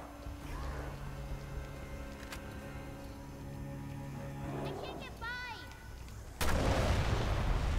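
Gunfire from Resident Evil Revelations 2, heard as a few loud game shots, including a sharp heavy blast near the end, mixed with in-game sound effects under a talking player.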